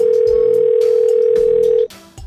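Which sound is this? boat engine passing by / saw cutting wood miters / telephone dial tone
telephone dial tone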